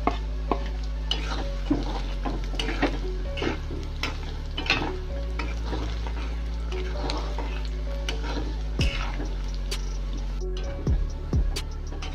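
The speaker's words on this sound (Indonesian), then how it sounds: "kita goreng sampai ke kuning-kuningan kita masukkan lagi bawang putihnya" Chopped garlic frying in oil in a pan until golden, a steady close sizzle with frequent clicks and scrapes of stirring throughout.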